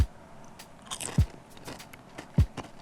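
Crunchy tortilla chips dipped in smoked queso bitten close to the mouth, three sharp crunches spaced about a second apart with faint crackling and chewing between them.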